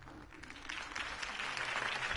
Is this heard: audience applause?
yes